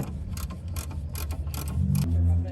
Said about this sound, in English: We're gonna loosen this brake line.